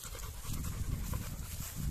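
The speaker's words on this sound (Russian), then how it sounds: "Жорик запыхался" An American bulldog pants rapidly and heavily close by, quick rhythmic breaths continuing without pause.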